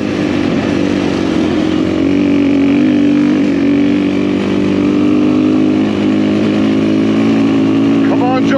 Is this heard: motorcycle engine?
yes